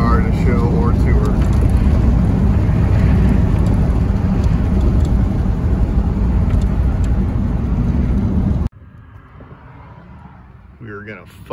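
Steady loud cabin rumble of a 1938 Chrysler Imperial on the road, engine and tire drone filling most of the stretch before cutting abruptly to a much quieter background, with a voice near the end.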